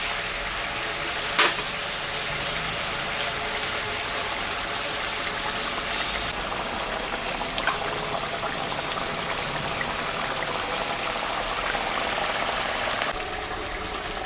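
Mrigal fish curry simmers in a pot with a steady, close bubbling and sizzling texture that runs throughout, with one sharp clink near the start.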